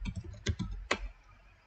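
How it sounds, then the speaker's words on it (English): Several sharp keystrokes on a computer keyboard while typing a configuration command, close and fairly quiet, in an irregular burst of about six clicks before fading into silence. "And this time we type manual config,"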